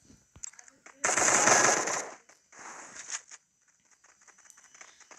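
A Bizon gun fires in the Free Fire video game, a dense rapid burst of automatic shots lasting about a second, then a shorter, quieter burst.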